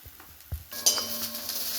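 Garlic, green chillies and curry leaves fry in a pan: a couple of soft knocks give way to a brief, quiet sizzle and crackle with light stirring scrapes.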